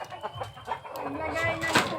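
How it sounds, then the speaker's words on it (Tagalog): Chickens clucking in short bursts close by on a farm in Iloilo, Philippines, with a person talking over the birds. "So, ito mga chicken niya."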